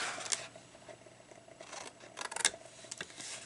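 Scissors cut away parts of a paper box top, giving a few close, quiet snips and rustling paper-handling sounds scattered across a short stretch, with no talk.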